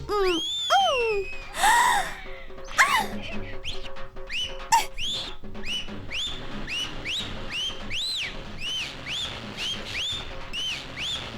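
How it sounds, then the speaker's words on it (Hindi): A whistle is blown in a Hindi-dubbed action film scene, with sharp rising and falling shrill tones repeating in a steady run of quick blasts, loud and close. "तुम सीटी बजाओ"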